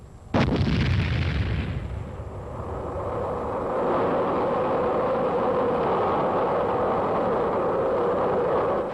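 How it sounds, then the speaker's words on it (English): A heavy anti-aircraft gun fires with one sharp, loud blast that rolls into a long, echoing rumble and a steady roar lasting several seconds, with no voices. "Artillerymen fire the anti-aircraft guns"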